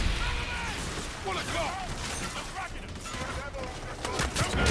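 Rapid gunfire crackles in Call of Duty: Infinite Warfare, dense overlapping shots and game effects filling the scene while a player talks over it.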